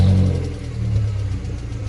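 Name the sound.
Subaru WRX car engine running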